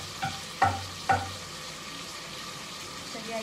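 Tomato and garlic paste frying in oil, with three quick scrapes of a spoon stirring through it over a steady low sizzle.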